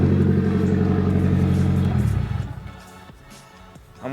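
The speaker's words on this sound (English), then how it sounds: "Got my car back running again." A turbocharged Nissan 240SX engine runs at a steady idle nearby, a low droning hum that cuts off and fades out near the end, followed by a few faint clicks.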